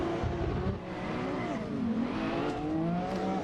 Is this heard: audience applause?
no